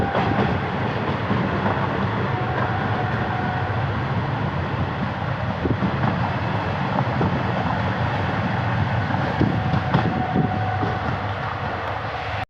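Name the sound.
passenger train passing under Lucknow metro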